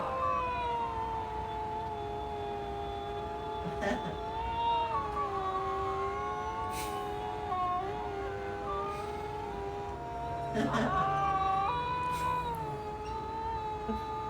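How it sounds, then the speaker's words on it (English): Several huskies howl together in long, wavering, overlapping wails that rise and fall like sirens, loud and close, continuing throughout with no talking. "Yeah, huskies can howl."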